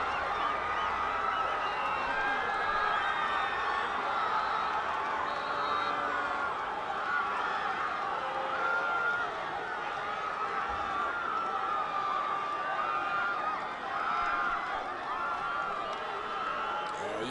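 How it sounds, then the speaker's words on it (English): Football supporters at a Solomon Cup match cheer after a goal, a broad sustained roar of a distant crowd that stays steady and loud throughout. "You listen to Celebalo crowd, the supporters here, they love it."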